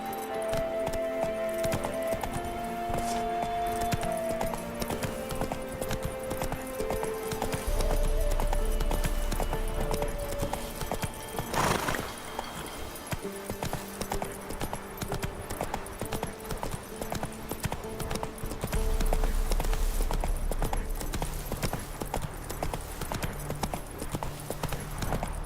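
Horse hooves clip-clopping at a steady gallop in The Witcher 3: Wild Hunt, with rhythmic thuds running through the whole stretch over continuous game music and ambience.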